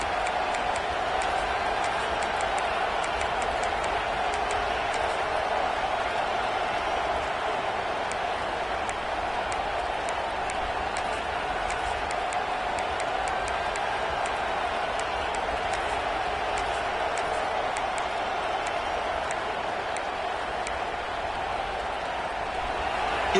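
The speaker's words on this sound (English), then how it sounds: "It's early, but this crowd is fired up. Listen to this noise here." Stadium crowd roaring and cheering at a Michigan vs Miami college football game, a dense, sustained wall of noise lasting throughout with no breaks, loud and steady.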